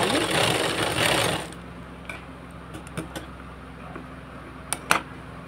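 An electric sewing machine stitching the seams of an embroidered blouse runs in a loud continuous whir for about a second and a half, then stops, leaving a few light clicks of handling.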